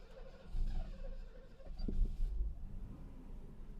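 A Mercedes W126 runs on LPG, a low engine rumble that swells at start and settles into a steady idle with a few clunks, fairly close with no talk.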